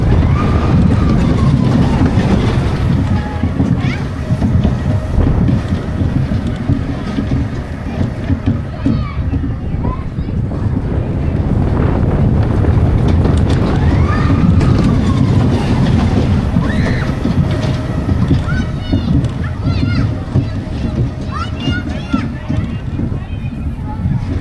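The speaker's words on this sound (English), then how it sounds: "I'm here riding this on National Roller Coaster Day" Spinning Starland spin roller coaster ride in reverse, a continuous loud rumbling roar of wheels and wind with crowd noise and voices under it throughout.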